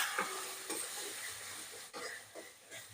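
Onion sautéing in a pan with turmeric and coconut for a capsicum curry, a soft steady sizzle and hiss broken by occasional quiet stirring scrapes.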